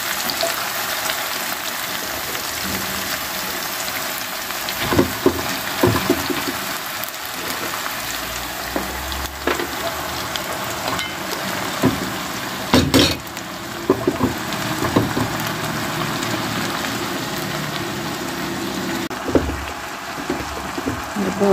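Cabbage stews in a pan with a steady close-up sizzle and bubbling hiss, broken now and then by utensil scrapes and clinks as it is stirred.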